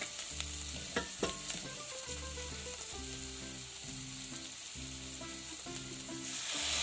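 Roasted peanuts sizzle in a frying pan with onions and garlic as they are stirred, a constant hiss of frying broken by scraping and knocking of the utensil against the pan, close and fairly loud, with no talking.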